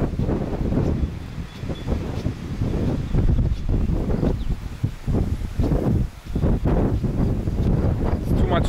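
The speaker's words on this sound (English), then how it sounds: "It's too much wind here." Strong wind roars across the microphone on a hike around Oberderdingen, Germany, a loud continuous rumble that rises and falls in gusts and dips briefly near the end.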